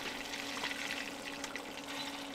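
Water poured into a packaged cornbread mix with melted butter and creamed corn at a winter van camp near Mt. Tom, California, a steady close splashing trickle with no talk.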